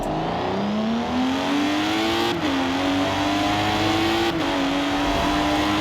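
Lotus 311 engine in Forza Horizon 4 revving steadily upward, a loud, continuous drone rising in pitch with two brief dips like gear shifts, heard alone with no talk.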